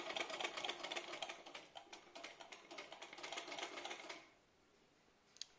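A sewing machine runs during a beginner stitching class, a fast rattling clatter for about four seconds that then stops, followed by near silence and a faint click.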